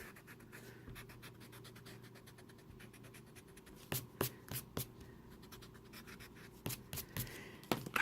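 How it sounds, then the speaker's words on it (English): A rubber eraser is rubbed over pencil marks on paper in rapid back-and-forth scrubbing strokes, close and soft, broken by a few sharper taps and brushing sounds. "So now I can erase my pencil marks."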